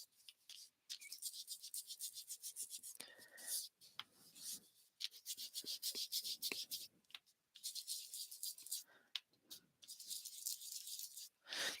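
A worn sponge rubbed repeatedly on card to apply ink, making rhythmic, close scratchy swishes in short bursts separated by brief pauses.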